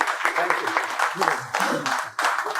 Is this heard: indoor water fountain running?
no